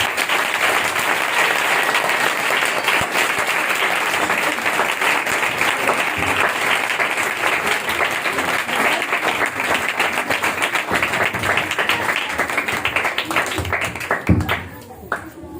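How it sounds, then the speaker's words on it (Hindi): Church congregation in Pakistan applauding loudly and steadily, dense clapping filling the space for most of the stretch before tapering off near the end. "जोरदार तालियां पाओ"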